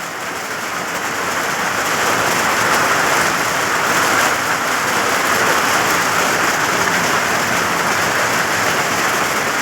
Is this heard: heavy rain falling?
yes